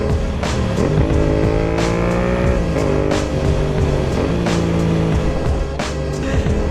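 A motorcycle engine revs hard and climbs through several gears while overtaking in cold, rainy, windy weather, loud and close, with wind roar throughout and no talking.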